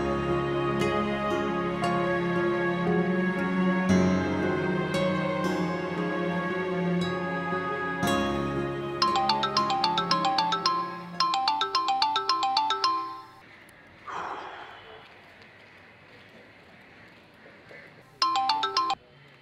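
A phone ringtone plays a melodic electronic tune for an incoming call, loud and continuous at first, then in short repeated bursts, followed by a pause and one last brief burst.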